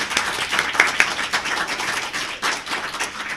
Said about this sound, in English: So one more round of applause for all of our podcasters